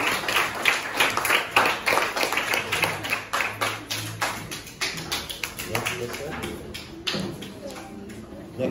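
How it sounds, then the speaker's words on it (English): Clapping from a parent and teacher audience at a school unit-of-inquiry action show, a steady patter of many hands lasting several seconds, with voices murmuring underneath. "Applause."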